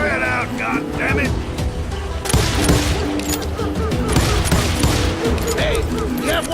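Rapid bursts of gunfire in the Western shooter game Call of Juarez: Gunslinger, sustained volleys crackling loudly and continuously beneath shouted voices and a rumbling game soundscape.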